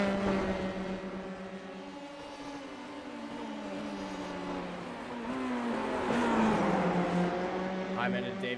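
F3 race cars running nose to tail at Bathurst in iRacing, two high-revving engine notes whining and shifting pitch through a corner, heard under steady commentary.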